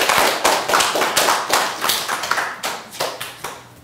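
A small audience claps in a brisk, uneven patter of close hand claps that fades slightly toward the end.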